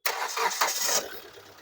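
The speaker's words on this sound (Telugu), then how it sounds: "ఒకసారి ఇంజన్ కూడా స్టార్ట్ చేసి చూపిస్తాం" A 2017 Hyundai Creta engine cranks and catches, a brief rough whirring burst that quickly settles into a quieter idle.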